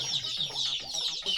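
A hen clucks softly and steadily as she eats feed of small onion, bran and oil cake, the close low clucks sitting under a constant high hiss.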